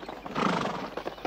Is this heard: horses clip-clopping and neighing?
yes